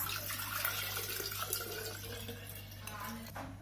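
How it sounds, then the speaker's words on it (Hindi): Cold water poured from a glass into a large jar while making a lemon mojito, giving a steady splashing, gurgling pour that runs close and fairly loud for a few seconds with no talk. "अब हम इसमें पानी डालेंगे, तो मैंने ठंडा पानी लिया है 3 ग्लास।"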